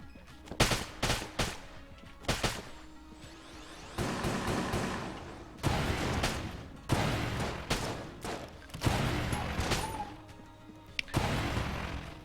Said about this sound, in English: I'm going to conserve ammo by using the starting weapon on them